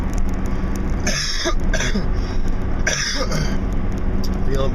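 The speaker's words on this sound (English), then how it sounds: "I've been doing some really hard coughing" A man coughs hard twice, a few seconds apart, each cough a sharp raspy burst standing out over steady background noise.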